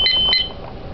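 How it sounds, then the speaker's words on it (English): A home fire alarm panel gives a couple of short, close electronic beeps at the press of a button to silence a low-battery warning, quick chirps followed by quiet room tone. "And I'm also going to silence the low battery."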